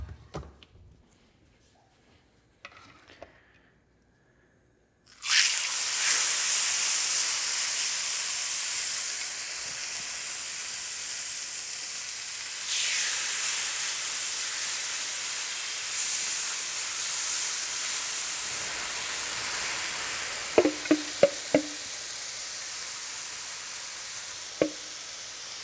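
Oil in a pan bursts into a loud, sustained hiss and sizzle as thin chicken slices go in after a few quiet seconds, frying steadily and close by, with a few light clinks near the end.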